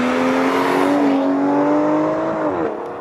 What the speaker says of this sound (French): c'est le son du moteur